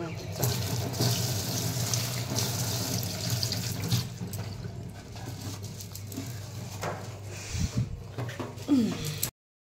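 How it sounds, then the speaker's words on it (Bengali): Tap water runs steadily into a sink while something is washed under it, with splashing and clatter near the end and faint birds in the background. "এটা ধুয়ে রাখি।"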